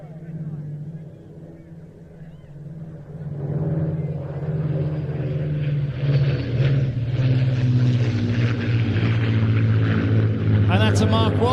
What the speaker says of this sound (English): from your right, not 1, not 2, 3 Spitfires